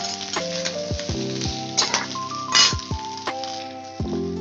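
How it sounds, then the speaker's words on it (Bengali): Ridge gourd sizzling steadily in a hot pan on high flame, with occasional clinks and scrapes of a spatula against the metal, no voices. "হাই ফ্লেমে একটুখানি ঝিঙেগুলো ভাজতে হবে"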